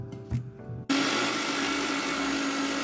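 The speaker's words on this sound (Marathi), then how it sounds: "हे मिक्सर मध्ये बारीक करून घेऊया." A kitchen mixer grinder starts up abruptly and runs loud and steady, grinding mint and coriander leaves with a little water into a fine paste, a continuous whirring roar after a brief clatter of handling.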